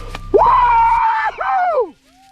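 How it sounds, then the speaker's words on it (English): A climber's loud, sustained scream at the top of the king swing on The Nose, one long wavering cry with a brief break and a second falling cry, close and alone. "When I finally get to the top of the king swing, I let out this scream."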